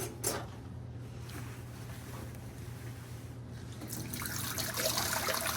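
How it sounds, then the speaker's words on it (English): Water runs from a tap into a sink being filled to a five-gallon mark for endoscope cleaning, a steady close rush that grows fuller and brighter toward the end, with no voices. "Fill sink to 5-gallon mark."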